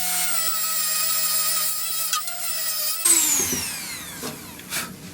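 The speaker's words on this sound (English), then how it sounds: "I've just had to open them up a bit with this little sanding wheel" A small sanding wheel on a power tool grinds into a knob on a 1950s school desk or chair, a high whining tone with a pitch that shifts and then drops sharply as the wheel bites and slows.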